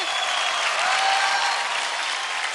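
Steady, dense studio audience applause on the TV dance show Dance India Dance Season 3, a close, even wash of clapping with no voices over it.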